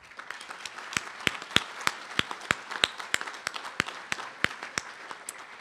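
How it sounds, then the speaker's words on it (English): Audience at an awards luncheon applauding, steady close clapping from a modest crowd with sharp individual claps standing out throughout. "Everyone deserves a round of applause."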